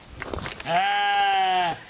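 A single drawn-out bleat from a nearby sheep on a farm, loud and nasal, following a moment of soft background rustle.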